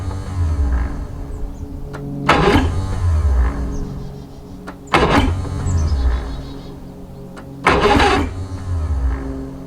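A 1986 Aquasport boat's 6-cylinder engine is cranked three times in separate loud bursts, each a whirring starter grind that fades between attempts over a steady background hum.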